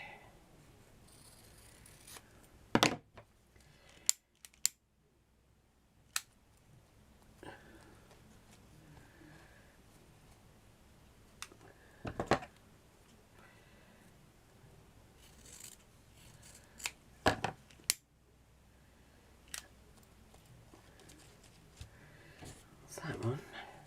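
Scissors snip ribbon for a French couture ribbon patch, with a few sharp, sparse cuts and soft rubbing and handling noises scattered across a quiet room, under occasional quiet talk.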